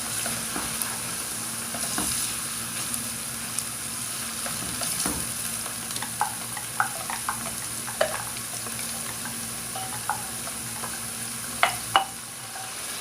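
A soft, steady sizzle of garlic and ginger paste frying in a pan, with occasional light clicks and spatula scrapes stirring through it.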